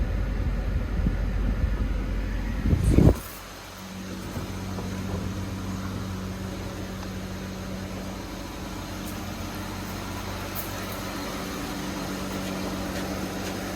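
A car engine idles and runs steadily with the air conditioning on during a test drive of a vehicle with a dual AC unit, a low, even hum; a louder burst near the start drops away as it settles.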